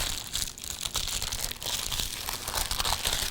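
Wax paper crinkling and rustling as sugar-free almond oatmeal cookie dough is rolled up in it, close, soft crackles in uneven bursts, no speech.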